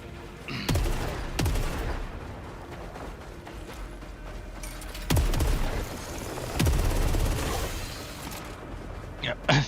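Eruptor hand cannon from a video game firing in 3-round bursts, heard as several sharp, loud gunshot bursts spaced across the clip over a busy background of game effects.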